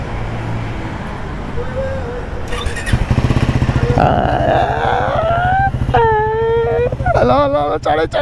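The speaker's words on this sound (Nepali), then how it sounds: "ल बाइकको फर्स्ट स्टार्टअप है यसको बाइकको" A new Triumph Scrambler 400 X motorcycle starts for the first time, catching into a steady close idle and then revving up several times in sharp rising bursts, with people talking over it.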